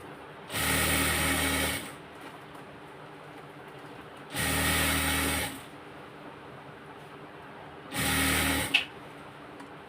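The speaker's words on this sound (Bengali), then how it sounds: "তো এলাস্টিকটাকে শিলে দেওয়া হয়ে গিয়েছে" Sewing machine stitching elastic onto a gathered salwar, running in three separate bursts of steady whirring, each lasting about a second, with quiet pauses between them. The machine is close and loud.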